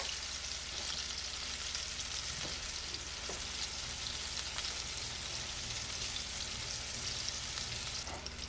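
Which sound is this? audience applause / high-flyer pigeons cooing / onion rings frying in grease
onion rings frying in grease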